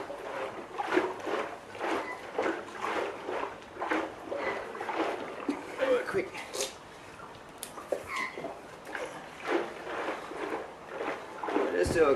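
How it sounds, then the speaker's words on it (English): Water sloshes around inside a new French oak barrel sealed with a bung, a steady rolling wash of liquid against the wooden staves, with talk over it throughout. "I'll give the barrel a big slosh around."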